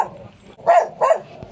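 A dog barks twice at a house, two short close barks about a third of a second apart over quiet background noise.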